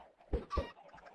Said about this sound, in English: These poor chickens are getting beat with eggs as soon as they're born.